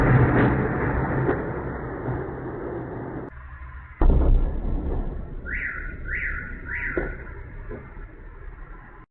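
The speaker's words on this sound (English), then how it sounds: "You're going to hear some explosions in the background as well." Possible missile attack heard from a distance: heavy booming blasts and rumbling roll in the background, with a few rising whooshing tones partway through.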